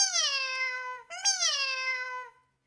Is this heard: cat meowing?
yes